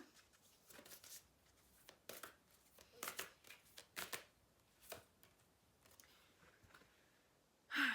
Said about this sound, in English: So I'm going to pull one last card.